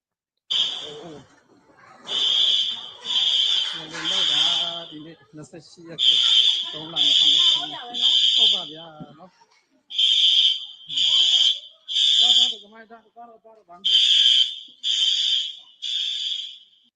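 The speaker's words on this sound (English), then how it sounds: "The hurricane alarm's going off." A hurricane alarm sounds loud and shrill, beeping in repeated bursts of three or four with short gaps between them. Low voice-like sounds and breathing run beneath the beeps.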